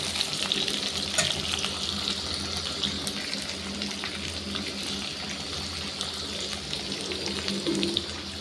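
Potatoes frying in oil in a pan, with a steady dense sizzle and hiss that runs continuously at moderate volume, with faint clinks and stirring noises, and no voices.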